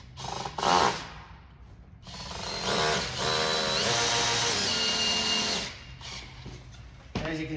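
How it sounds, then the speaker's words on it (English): A power drill drives into the risers of an Erie Secrets sled kit in short whirring bursts, then one long steady run in the middle, with a ratcheting clutch clicking near the end; no one talks. "I'm just drilling that into the bottom where I have those holes in the risers."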